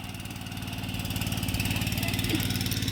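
A tractor engine runs in a flooded paddy field during winter rice transplanting in Konkan, a close, steady chugging with rapid rhythmic pulses that grows slightly louder.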